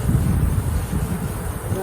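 A swarm of honey bees droning in a steady, dense buzz, close and continuous, with some low wind rumble.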